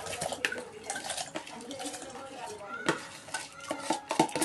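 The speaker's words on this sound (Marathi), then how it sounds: "पाणी उकळलं की आपण त्यात तांदूळ सोडूया" Rice tipped into boiling water in a pot and stirred, with a busy mix of bubbling, scraping and clinking from a spoon against the pot, close and moderately loud.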